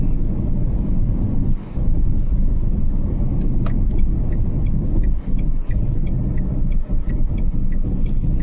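A Renault Triber car driving at about 2500 RPM, a loud continuous low engine and road rumble inside the cabin with wind buffeting and small clicks throughout.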